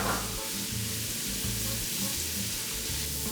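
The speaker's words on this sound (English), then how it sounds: "We're ready to finish this stir fry, adding the onions and cooking them down a bit." Onions cooking down in a stir fry for soba noodles and tofu, giving a steady, close sizzle that is even and continuous, with faint scraping as they are stirred.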